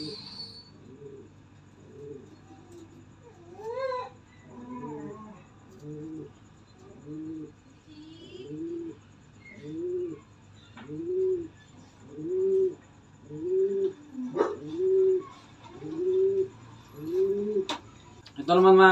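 Racing pigeons cooing at a loft, a repeated rhythmic series of low throaty coos, each rising and falling, growing louder and more frequent over time, with a few faint chirps in the background.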